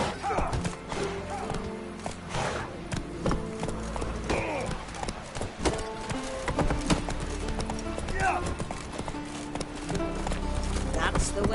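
Horse hooves clip-clop at a gallop in The Witcher 3 video game, a steady stream of thuds mixed with game effects while characters talk over them.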